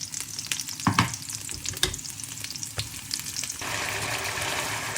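Argentina corned beef with onions frying in oil gives a loud, close sizzle with scraping stirs and clatters, then settles into a steady dense hiss toward the end; no talking.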